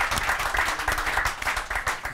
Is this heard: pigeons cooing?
no